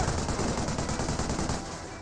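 Sustained machine gun fire from an MMG carrier in the Company of Heroes video game, a dense continuous rattle of rapid shots at steady loudness that eases slightly toward the end.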